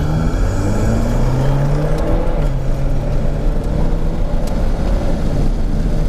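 Alpine A110 rolling toward the track at the Mornay circuit, its engine a loud, steady low drone heard from inside the car, with road and wind rumble underneath.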